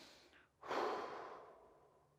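A single deep, slow exhale, close and soft, rushes out and gradually fades during a hip and groin mobility exercise, preceded by a faint breath in.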